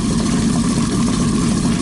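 A Volvo Penta marine engine idles with a steady, low rumble continuously at close range, even and unchanging throughout with no voices.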